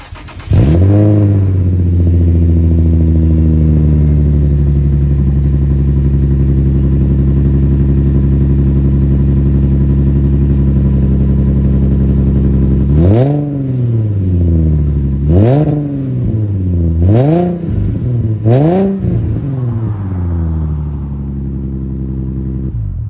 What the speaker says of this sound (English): I'm gonna do the cold start for you guys